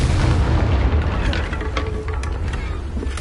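A spell-cast explosion in the video game Hogwarts Legacy rumbles as a deep, continuous boom with crackling bursts on top, loud and close throughout the short moment.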